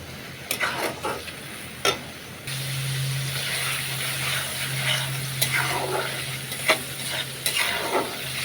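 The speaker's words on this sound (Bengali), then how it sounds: "এবার ভালোভাবে মশলাটাকে আমি কষাই নিব।" A spice paste (masala) for Bengali taki fish bhuna is stirred while it fries in oil, giving a steady close sizzle with repeated scraping strokes of the spatula against the pan and no talking.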